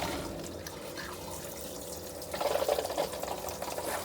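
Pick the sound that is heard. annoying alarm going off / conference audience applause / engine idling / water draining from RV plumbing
water draining from RV plumbing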